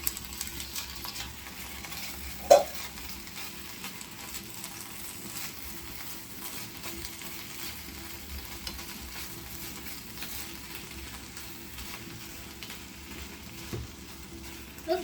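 Impossible Burger plant-based meat frying for spaghetti sauce: a faint, steady low sizzle with a few soft stirring knocks, fairly quiet and distant.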